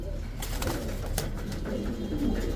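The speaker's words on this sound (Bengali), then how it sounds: "ককা কিন্তু ডাকে লাইট ধরলেই বন্ধ হয়ে যায়" A male pigeon coos steadily up close, soft low rolling calls repeating over continuous background hum and some brief clatter.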